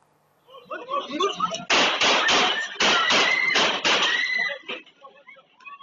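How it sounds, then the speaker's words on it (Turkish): A rapid run of loud gunshots outside a restaurant in Atakum, Turkey, about six blasts fired in quick succession, with a voice talking before and after. "Silahlar peş peşe ateşlendi."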